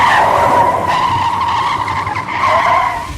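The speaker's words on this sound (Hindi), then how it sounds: "सड़क किनारे मिट्टी में कुछ दूर खिसती हुई जाकर रुक गई" A car racing along a highway during a thunderstorm skids and slides off the road into roadside dirt. The tires squeal loudly and continuously for about three seconds, with no talking.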